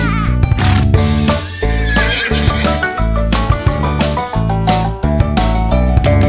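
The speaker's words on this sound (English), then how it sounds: "With a neigh-neigh here and a neigh-neigh there" Horse neighs and whinnies ring out repeatedly over lively, bouncy Old MacDonald Had a Farm nursery rhyme music, loud and close.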